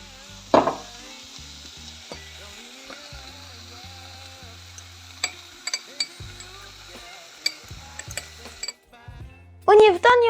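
Onions caramelising with honey, turmeric and agave syrup sizzle steadily in a pan as a utensil stirs through them, with scattered clinks and knocks and a brief burst of louder scraping at the end.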